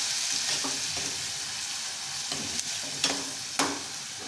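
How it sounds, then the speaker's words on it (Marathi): Chopped onion frying in a pan with ginger-garlic paste, a close, loud continuous sizzle broken by a few scraping stirs and clinks of a spoon. "आणि हे मी जो कांदा कापलेला आहे तो पण यामध्ये टाकून घेऊया आणि याला चांगलं शिजू द्यायचं आहे"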